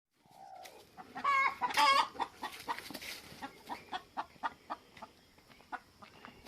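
Chickens near beehives cluck in a busy, close burst of squawks, then settle into a steady run of short, evenly spaced clucks.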